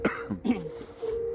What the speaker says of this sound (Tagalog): At talagang inuubo po kami.